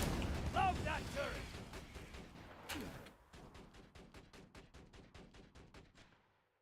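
A turret in Borderlands 2 fires a rapid string of evenly spaced mechanical shots, loud and close, following a burst of blasts and clatter while a voice talks over the opening seconds.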